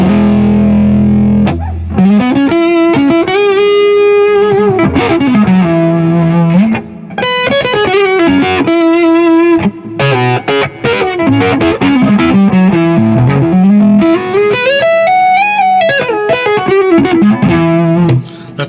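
A DIY kit electric guitar plays through an amp set to a Dumble-style tone, loud and close, with melodic single-note phrases and chords, smooth overdrive and sustained ringing notes, and no talking.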